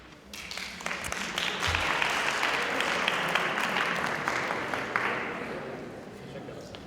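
Audience clapping in agreement during a talk on classroom management and behaviour, a sustained round of applause rising quickly, holding steady, then fading away.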